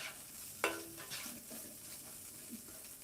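Diced potatoes sizzle on a hot griddle, a steady soft frying hiss with one sharp clink of a utensil near the start and faint scraping stirs after it.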